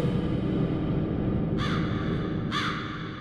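Two crows caw in the video game The Mimic, a pair of distinct harsh calls about a second apart over a steady low ambient drone.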